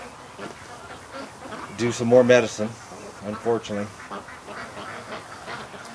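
Injured duck, hurt in a snapping turtle attack, giving several short nasal quacks in a cluster near the middle, close and fairly loud, with someone talking quietly around them.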